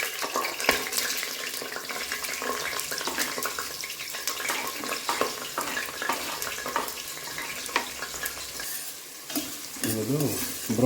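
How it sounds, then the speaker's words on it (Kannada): Onions frying in oil in a home kitchen while making mushroom pulao, a steady dense sizzle with frequent clinks and scrapes of a stirring spoon throughout, close and continuous with no talking. "ಇದು ಬ್ರೌನ್ ಬರೋವರೆಗೂ ಹುರ್ಕೊಂಡು ಫ್ರೈ ಮಾಡಬೇಕು."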